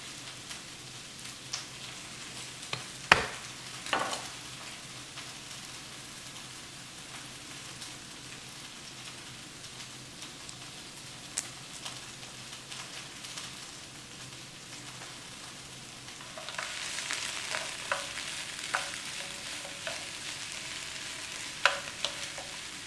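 Small garlic cloves frying on low heat in a pan, a soft continuous sizzle with occasional utensil clicks, the frying growing louder and more crackly as the garlic is stirred near the end.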